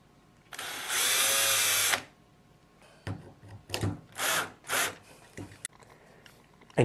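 A power drill drives short self-tapping screws into PVC pipe while fixing a handle, one long steady whine followed by several short bursts, close and loud, no voices.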